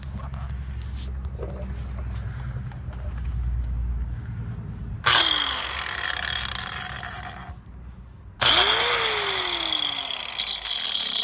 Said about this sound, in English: We're gonna grind that off with an angle grinder.